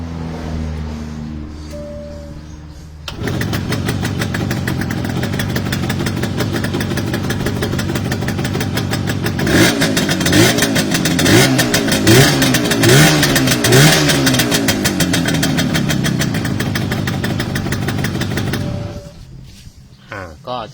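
A motorcycle engine with a freshly repaired carburetor starts at about three seconds, then runs steadily and revs in several rising bursts before cutting off near the end, loud and close with no talk over it.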